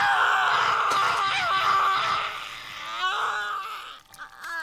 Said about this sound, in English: that's the scream that they heard before